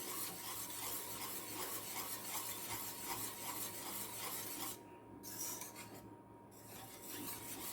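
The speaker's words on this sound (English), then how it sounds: "Just whisk it a bit so that the sugar dissolves." Sugar mixture for banana bread being whisked in a bowl, a steady close rasping scrape running continuously, with two brief pauses near the end.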